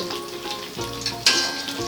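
An egg sizzles and crackles as it fries in a wok, a steady close sizzle with a few sharper pops and spatters, one louder burst partway through, and no talking.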